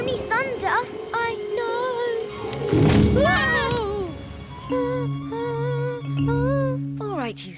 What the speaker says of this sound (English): It's only thunder.